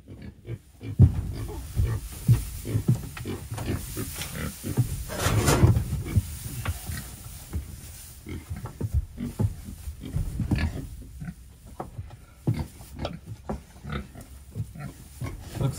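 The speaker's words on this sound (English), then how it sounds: "Looks like we're gonna have a pig party in here." Pigs in a pen with fresh hay, grunting and rooting in short irregular bursts up close, with rustling hay and a louder flurry of activity in the middle.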